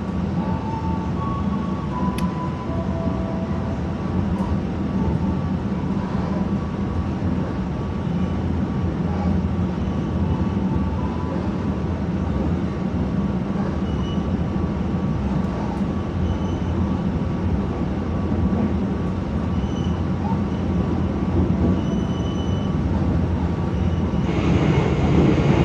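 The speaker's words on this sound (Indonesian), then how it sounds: "KA Jakatingkir kembali diberangkatkan dari Stasiun Jatibarang, Kabupaten Indramayu jam 15:14." The KA Jaka Tingkir passenger train pulls away from Jatibarang station in Indramayu, a loud, steady rumble and roar of the running train heard from on board, with faint squeals and a swell near the end.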